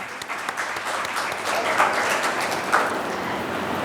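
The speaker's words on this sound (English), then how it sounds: "A round of applause for all of these." An audience at a school stage show applauds after the performance, a sustained wash of many hands clapping that swells slightly midway and holds steady to the end.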